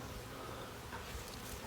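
Honeybees, part of a 30,000-bee package being installed into a hive, give off a faint, continuous low buzzing hum nearby, steady throughout with no voices.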